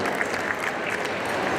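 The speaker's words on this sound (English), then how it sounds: "Another big round of applause for these Southern traditional ladies" Steady, dense applause from a crowd at a pow wow exhibition at the Mall of America, honoring Southern traditional women dancers; continuous clapping at even loudness throughout, with no talk over it.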